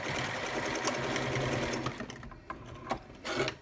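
A sewing machine tacks elastic onto a fabric tube for a headband, running in a fast steady whir that breaks into several short stitching bursts toward the end. No one speaks.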